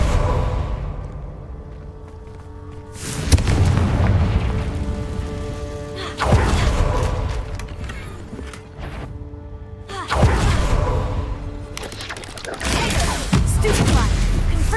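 Spell blasts and booming impacts from Hogwarts Legacy combat come in repeated heavy bursts with whooshes and crashes, while a player's voice shouts spell names over the action.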